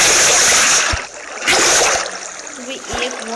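Water splashing in Minecraft as a water bucket is filled, two bright bursts of splashy noise about half a second apart, with a voice talking over them.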